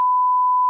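A single steady, clean censor bleep, loud and unbroken for under a second, masks profanity in a Telugu political satire news segment.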